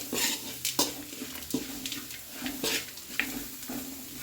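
Masala with grated coconut fries in oil for chitranna, with a spatula repeatedly clinking and scraping against the pan and a soft sizzle underneath, close and irregular.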